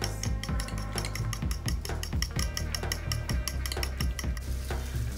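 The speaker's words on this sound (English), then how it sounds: "Whisk your eggs" Ten eggs whisked in a bowl for a keto breakfast burrito, giving a quick, steady run of rhythmic clicks and scrapes throughout, set over a constant background layer.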